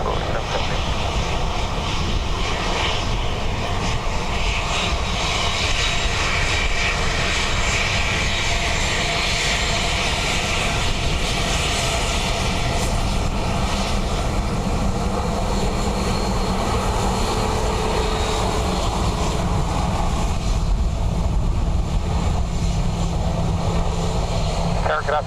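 Swiss airliner landing on runway 28 left at Dublin Airport on a windy day, a loud continuous engine roar and rushing wind noise throughout, with a voice briefly talking over it.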